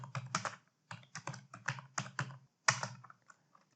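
Keystrokes on a computer keyboard typing an address in Microsoft Word, in several close quick bursts of clicks with brief pauses between them, near and moderately loud, with no talking.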